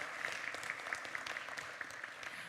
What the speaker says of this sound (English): Please welcome Ms. Miriam Stankovic with a big round of applause.